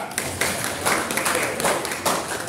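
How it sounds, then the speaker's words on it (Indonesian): Applause from a small group, steady clapping throughout at moderate volume. "Tepuk tangan untuk Mbak Mega."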